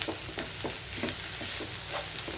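Curry leaves go into a masala sautéing in a hot pan for a Kerala-style chicken roast. A close, hissing sizzle is broken by rhythmic stirring scrapes about every half second, with no talk.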